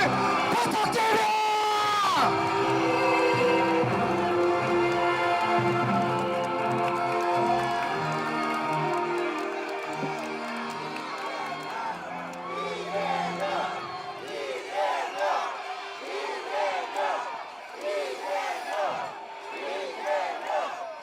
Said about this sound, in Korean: 뜨거운 박수와 함성 부탁드립니다